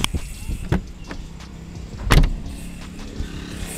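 A Jeep JL Rubicon's power window motor runs in one continuous pass as the window closes, with a few clicks and thumps around it, close up.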